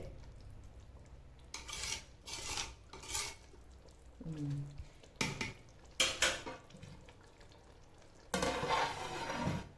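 A spoon stirs mutton biryani in a pot after lemon juice is poured in, giving several soft scraping and clinking bursts against the vessel with quiet gaps between them, faint and close.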